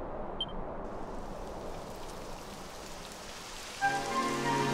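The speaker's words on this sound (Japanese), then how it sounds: "やだ、雨が降ってきたわ。" Steady rain falls in the video game Dragon Quest XI S, an even hiss of drops throughout, joined by sustained musical tones in the last second.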